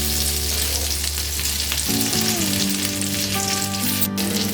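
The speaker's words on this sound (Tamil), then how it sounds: "இப்போ நல்லா மீன் பொரிஞ்சிருச்சு" Stuffed pomfret (vaval) fish frying on a tawa, a steady, close sizzle of hot oil that runs throughout without pause.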